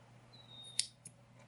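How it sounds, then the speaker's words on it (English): Scissors snip through yarn while finishing a crocheted Christmas tree ornament: one crisp, close cut followed by a fainter second click, in a quiet room. "One chain and you can cut off your yarn"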